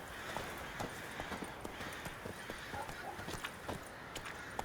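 Roach the horse gallops in The Witcher 3, a fast, steady clip-clop of hooves on the ground in a continuous rhythm over soft ambient game sound.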